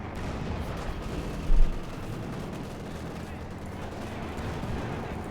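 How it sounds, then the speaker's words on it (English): Company of Heroes 2 battle gameplay: one short, heavy burst of artillery fire hits about a third of the way in, over a constant low rumble of distant battlefield noise. "Comes the flank behind there, artillery fire, there you go."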